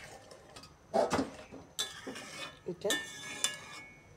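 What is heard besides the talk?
stirring the cooking mixture in a pot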